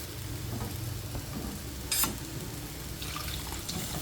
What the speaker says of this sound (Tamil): கொஞ்சம் தண்ணி ஊற்றி விட்டுக்கலாம்